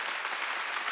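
A church congregation claps during a Sunday worship sermon, a short burst of dense, even applause filling the room.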